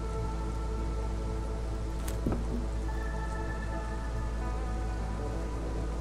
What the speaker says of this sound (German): jetzt müssen wir mal gucken, es regnet wieder.